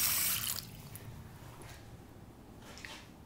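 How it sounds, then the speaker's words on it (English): Water running and splashing in a shallow sink in a Las Vegas hotel suite bathroom, a loud gush at first that settles into softer steady flow with faint splashes, close by. "The sinks are shallow, so they do get the splashing effect."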